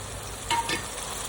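Tomatoes fry in a pan for chicken chingari gravy, a soft steady sizzle with two quick stirring scrapes in the middle of the short moment.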